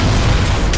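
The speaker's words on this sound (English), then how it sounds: "they really made the explosions so much better now" A loud, booming fuel tank explosion in a PC game that fills the whole moment with a deep rumble and crackle, no voices.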